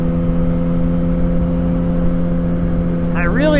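Yamaha R1 motorcycle riding on an Idaho canyon road, a steady whirring engine drone with a clear rev rise near the end, close and continuous.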